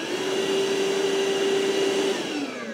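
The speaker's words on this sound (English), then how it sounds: "It's quieter than your normal shop vac, but it's not a quiet machine." Ryobi ONE+ 18V cordless 1-gallon wet/dry shop vacuum running alone, a steady loud whining motor drone with a constant tone that eases slightly near the end.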